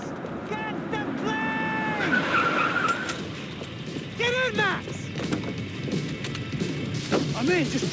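A car in a video game drives fast and skids, tires squealing in repeated rising and falling chirps over a constant engine and road rumble, with game sounds layered over it.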